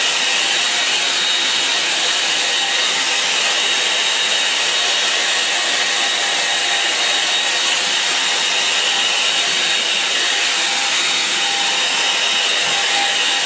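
A hair dryer blows steadily to dry paint on a wash painting, a loud, close, continuous whirring roar that runs unbroken and alone.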